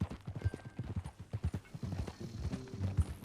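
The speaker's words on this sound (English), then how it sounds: "That new horse? Some folk buy ranches, some buy horses." Horse hooves clip-clopping at a steady trot in the Red Dead Redemption 2 video game, close and fairly loud, with faint game ambience and a brief high tone near the end.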